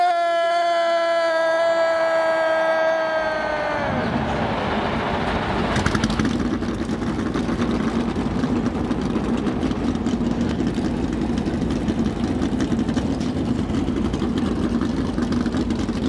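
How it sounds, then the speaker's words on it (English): A sustained tone fades out, then a pack of NASCAR Cup Series race car engines at the Daytona 500 roars to life at once and keeps up a loud, steady growl, with a voice faintly underneath. "Engines begin to fire for the first time here in Season 5"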